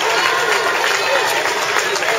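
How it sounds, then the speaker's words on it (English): Spectators at the Front Street Mile road race in Bermuda keep up steady, dense applause and crowd noise as runners finish, with an announcer's voice talking loudly over the continuous clapping. "Keep the applause going"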